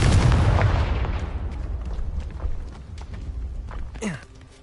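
A Confringo explosion spell bursts in Hogwarts Legacy on PS5: a loud booming blast whose rumble decays over a couple of seconds, followed by a quieter sweeping magical whoosh near the end.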